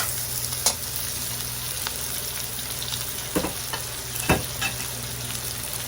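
Winter melon pieces sizzling steadily in a hot pan, a constant frying hiss with occasional sharp scrapes and clacks of the spatula stirring, close and without talk.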